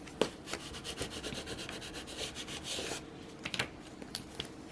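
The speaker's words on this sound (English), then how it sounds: "let's take our little scraper tool" A small scraper tool rubbed over a vinyl decal on a planner, giving quick, close rasping strokes in a steady back-and-forth rhythm, then a pause and a few sparser scrapes.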